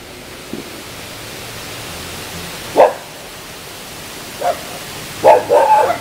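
Dogs near a graveyard bark a few scattered times, short sharp yaps spaced apart over steady hiss, with a brief cluster near the end, moderately distant.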